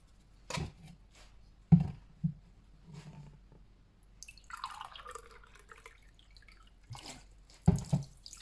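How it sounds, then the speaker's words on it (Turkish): Water splashes and pours in uneven bursts into a pot with sugar while making rose jam, with drips and knocks in between, close by and fairly quiet. "3 bardak da su ekleyeceğim."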